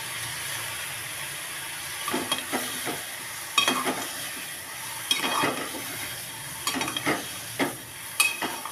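Pointed gourd (parwal) pieces frying with onions and ginger-garlic paste in hot oil, giving a steady close sizzle broken by several bursts of louder crackling and stirring scrapes.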